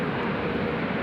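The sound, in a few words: Emirates jet airliner taking off from Sydney Airport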